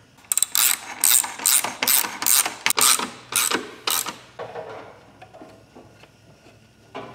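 A ratchet wrench clicks in quick, loud bursts as bolts for line clips are threaded into the body of a Mitsubishi Lancer Evolution VIII under rebuild, then the ratcheting fades to softer, scattered clicks.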